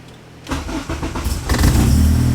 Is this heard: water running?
no